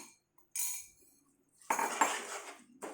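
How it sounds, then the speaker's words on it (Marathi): A spoon scrapes and clinks against a pan while jaggery and sesame seeds are stirred together, coming in a few short bursts separated by near silence. "हे आता थोडा वेळ आपण व्यवस्थित मिक्स करून घ्यायचं आहे आपल्याला गूळ आणि तीळ."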